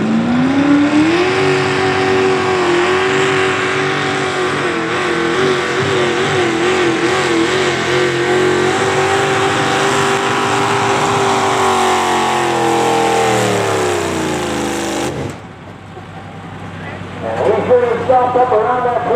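Pulling tractor engine revving hard at a truck and tractor pull, a loud sustained roar with pitch rising and falling for about fifteen seconds, then cutting off abruptly before a brief rumble returns; a commentator talks over it.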